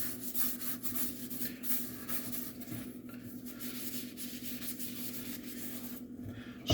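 A Scotch-Brite pad scrubs dishes in a steady, soft rubbing rhythm, faint and close, with water and kitchen background underneath.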